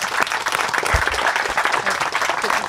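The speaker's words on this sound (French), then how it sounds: "On peut l'applaudir, merci." Studio audience applause for a departing guest on a French political talk show, steady dense clapping from a crowd throughout, close and even.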